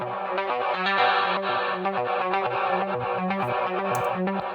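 A rhythmic music loop with a reverb tail that pumps and ducks in time with the beat via the KSHMR Reverb plugin's ducking, steady and fairly loud with no voices.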